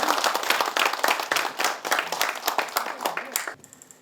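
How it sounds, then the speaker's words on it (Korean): Loud, dense applause from guests at a ceremony right after a disaster-prediction cooperation agreement is signed, with sharp individual claps throughout that stop abruptly near the end. "큰 박수로 축하해 주시기 바랍니다"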